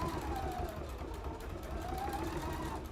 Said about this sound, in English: Gonna make sure I stitch right here on my previous stitching line there